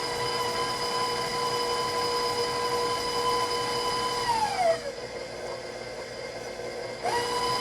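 An electric stand mixer creaming biscotti dough gives a steady, loud whine and whir that drops in pitch as it slows and stops partway through, then restarts near the end.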